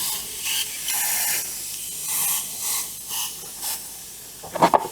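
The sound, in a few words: air compressor running during spraying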